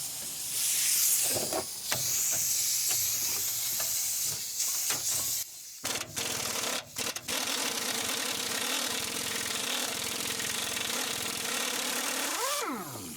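A torch flame hisses steadily against a rusted Dodge Ram axle, a loud continuous rushing roar broken by a few brief cutoffs, with a rising whine near the end.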